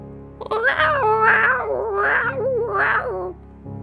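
A voice imitating the noise a cartwheeling cat might make, a loud, drawn-out wavering yowl rising and falling in three swells over a few seconds, close and unaccompanied.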